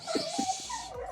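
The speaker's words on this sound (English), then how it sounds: "there's a dog." A dog on one of the Kerama Islands gives a few short, soft whimpering yips close by, with faint ambient background around it.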